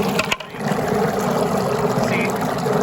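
Steady watery gurgling and rushing hum from a pool skimmer with the water level too low, continuous and fairly loud, with a brief thump near the start.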